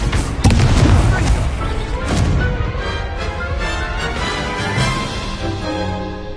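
A fiery Incendio spell blast in Hogwarts Legacy, cast during a spell duel, lands as a sharp booming burst. A softer rumbling whoosh follows and slowly fades into a faint lingering tail.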